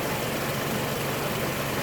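A car engine idling while its RPM is being adjusted toward 700: a steady, dense, unbroken engine rumble up close, with no change in rhythm across the short stretch.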